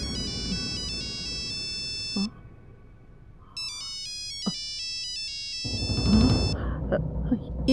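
A phone ringtone plays a repeating electronic melody in bursts with short gaps, loud and close, with household noise and brief speech sounds between the rings.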